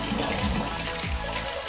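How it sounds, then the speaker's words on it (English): Small fish being washed under running water, with a steady splashing flow and a couple of brief sloshing surges as the fish are rinsed, short and close. "We have to wash 3 to 4 times."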